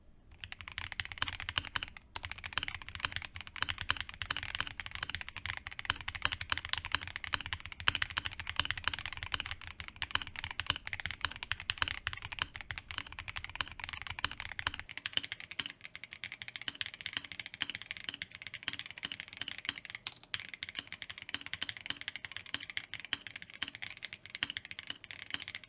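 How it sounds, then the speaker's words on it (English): Continuous typing on a KBD Craft Lilith mechanical keyboard, a steady patter of clicky keystrokes heard up close for a long stretch. "Speaking of typing though, let's finally do some."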